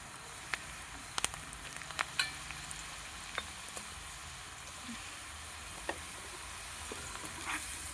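Chopped onion frying in very hot oil over a wood-fired stove on a terrace, just after cumin tempering, giving a soft steady sizzle at moderate distance with scattered sharp crackles and spatter pops.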